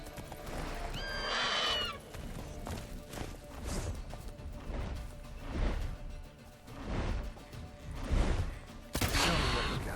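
A horse in The Witcher 3 video game neighs loudly near the start, then its hooves clip-clop in a galloping rhythm, with whooshes and another whinny close by at the end.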